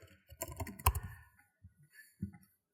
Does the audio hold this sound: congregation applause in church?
no